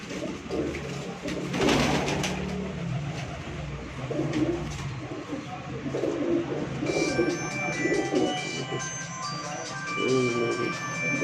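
Breeder pigeons on a rooftop coo steadily and continuously in a dense, overlapping chorus, close and fairly loud, with general outdoor noise and faint voices mixed underneath.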